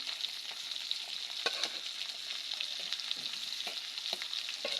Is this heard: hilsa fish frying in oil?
yes